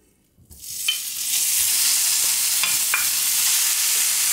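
Beef sizzles in a little olive oil in a frying pan, a loud, steady hiss starting abruptly and holding on, with a few faint clicks and no talking.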